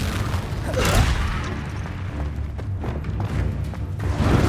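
Confringo fire spell explosions in the video game Hogwarts Legacy, heavy booming blasts and thuds that roll one after another over dense low rumble, loud and close with no talk.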